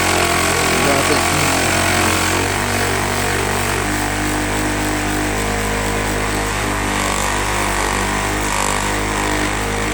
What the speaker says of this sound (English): This buffing wheel makes a circular motion